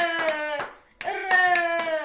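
Several quick hand claps in two short bursts sound over a loud, sustained, high-pitched tonal sound, with a brief pause between the bursts.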